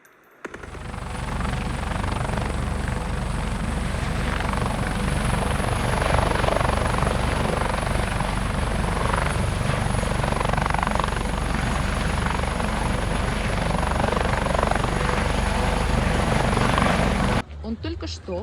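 Helicopter passing low overhead in the Caucasus mountains, a loud, steady rotor thump and engine roar that fills nearly the whole stretch before cutting off near the end, with faint voices underneath.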